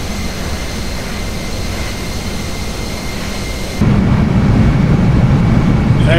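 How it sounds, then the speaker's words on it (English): Airbus A320 jet climbing away from Zurich Airport through low cloud, a steady broadband cabin roar of engines and airflow that steps up suddenly in level partway through, continuous and close. "The aircraft is now levelling off and will shortly make a right-hand turn towards Brego."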